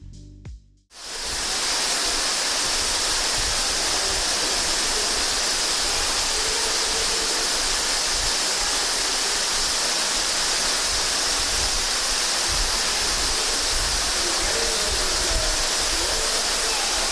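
Ruby Falls, a 145-foot underground cave waterfall in Tennessee, roars as a steady, dense, unbroken rush of falling water that starts abruptly after a brief moment of quiet and fills the cave evenly throughout.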